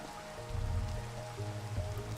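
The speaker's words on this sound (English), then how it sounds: "It's raining down into the valley" Rain falling over a mountain valley in Minecraft, a steady patter of drops with a low rumbling undertone, even and continuous with no voices.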